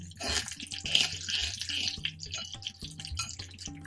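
Mustard seeds and urad dal crackle and pop in hot oil while tempering for South Indian curd rice, a close series of sharp, irregular sizzling pops and spits at a fairly quiet level with no talk.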